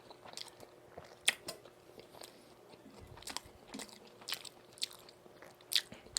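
Close, soft bites and chewing on donggeurangttaeng, Korean pan-fried meat patties, with scattered crunchy crackles and moist mouth sounds at irregular intervals, quiet and without talk.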